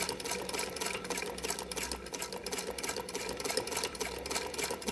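A sewing machine fitted with an adjustable hemmer foot stitches black fabric, its rapid mechanical stitching rattle continuous and close, with no voices.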